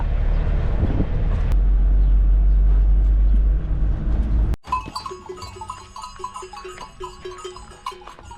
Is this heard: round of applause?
no